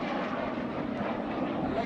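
A Piston Provost propeller aircraft flies at an airshow at Dunsfold, its engine a steady droning roar that fills the whole moment at a fairly even level, with no voices heard.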